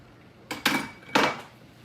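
A utensil whisks flour into melted butter in a pan for a roux, making two short, close scraping clinks against the pan over quiet background.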